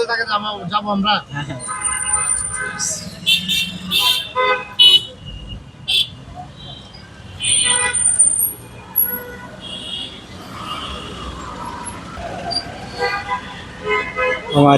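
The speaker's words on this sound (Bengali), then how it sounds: "সামনে ভীষণ জ্যাম" Heavy traffic jam on a Dhaka road near Diabari Metro, with repeated car horns tooting in short bursts over a low engine and road rumble, and people talking in between.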